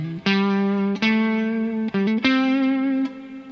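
Guitar notes played through the hall setting of a Neunaber Immerse Mk1 reverb pedal, a few sustained chords ringing out with a wide, soft tail that hangs behind each one, with no talking.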